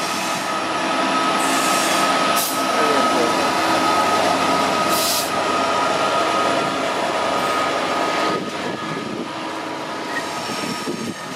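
A train rumbles loudly through Cardiff Central station, a sustained roar of wheels and carriages for the whole stretch with occasional brief metallic squeals.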